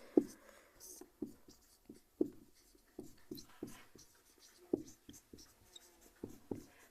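Pen writing maths on paper during a Hindi-medium class 10 lesson, with short scratchy strokes and taps in an irregular rhythm, close and fairly quiet, while someone talks softly.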